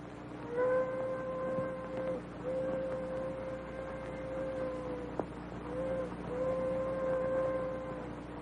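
Train approaching in an old Hollywood war film, a sustained multi-tone steam whistle sounding in long repeated blasts over a low rumbling background, fairly distant.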